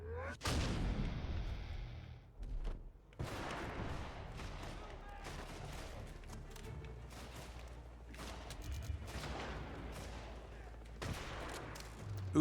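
Rapid gunfire bursts rattle through a bullet-time slow-motion sequence in Dead to Rights: Retribution on Xbox 360, dense overlapping shots and booming impacts running loud and continuous with brief pauses.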